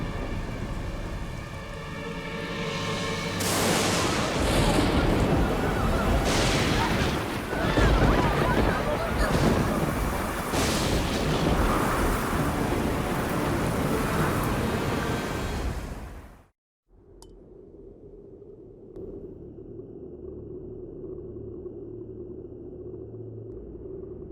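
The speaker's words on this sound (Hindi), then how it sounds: "ये तूफान तब तक थमना नहीं चाहिए जब तक वृंदावन पूरी तरह पानी में डूब न जाए।" Loud rushing wind and churning water of a cartoon storm flooding a village roar continuously for about sixteen seconds, then cut abruptly to a quieter, steady low hum.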